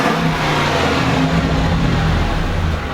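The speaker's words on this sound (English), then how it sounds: "Let's rev this." A car engine revs hard through a stock exhaust, giving a loud, steady, rough roar that runs the whole time with no talk.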